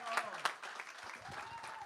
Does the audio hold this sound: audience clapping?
yes